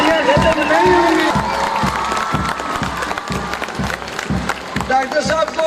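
Large crowd applauding and cheering at an outdoor welcome for Dr Abdul Qadeer Khan in Kahuta, with steady clapping throughout and shouts rising over it, while someone talks loudly over the noise.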